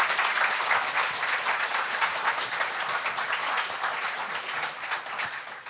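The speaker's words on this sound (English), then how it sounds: "one big round of applause for Albert again." Steady, dense applause from an audience at a Flutter Warsaw developer meetup. Many hands clap together for several seconds, with no gaps and no talk.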